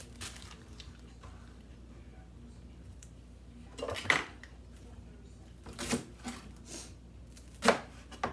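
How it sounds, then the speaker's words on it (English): Onions being chopped on a kitchen board, a few sparse knife strikes spaced seconds apart, fairly quiet and close against a low room hum. "let's cut the onions"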